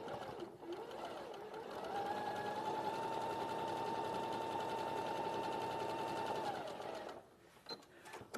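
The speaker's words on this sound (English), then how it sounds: "this time you're going to sew on this side" Sewing machine stitching fabric in one continuous steady whirring run of about five seconds, then slowing and stopping, close and moderately quiet.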